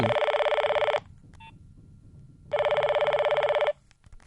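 A telephone rings in two long electronic bursts, the first about a second and the second just over a second, separated by a quiet pause, loud and close with no talking.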